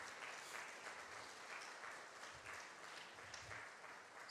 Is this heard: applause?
yes